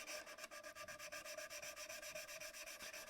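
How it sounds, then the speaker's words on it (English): Steady back-and-forth sanding on wood, a continuous rhythmic rasping scrub with even strokes, close up and alone. "A lot of patience on this finishing sanding."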